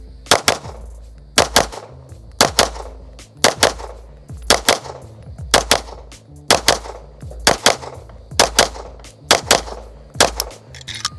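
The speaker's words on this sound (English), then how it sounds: "I had one flyer that I just pressed the trigger on a little too soon" Pistol shots from a Gibson Custom Guns 1911 ring out loud and close, mostly in quick pairs with short pauses between them, repeating steadily with no talking.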